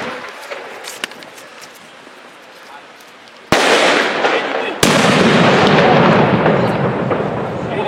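Cobra 6 firecrackers go off at a birthday celebration, with sharp sudden bangs followed by loud, sustained crackling blasts that fill the air, while people talk in the background.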